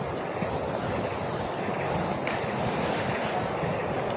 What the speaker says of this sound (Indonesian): Pantai unik di Banyuwangi nih.